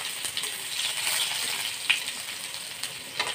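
Sliced garlic sizzling in two spoons of refined oil in a pan, a close steady hiss with a few small pops and crackles.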